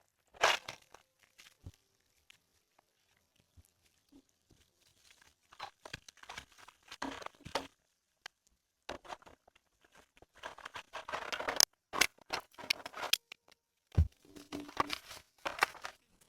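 Transparent plastic film cut to size for a log cabin window in extreme winter, crinkling and crunching in irregular bursts with sharp snipping tears, close and moderately loud, separated by quiet pauses.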